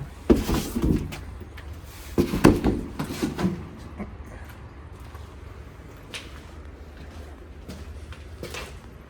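A door in an abandoned, damp building is worked open with a few loud, close clunks and scraping knocks in the opening seconds, followed by quieter shuffling and faint scattered taps in a dim, hollow space.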